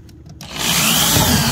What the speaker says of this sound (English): So you can either drill just a little drain hole, or you can decide that you want to go all the way through.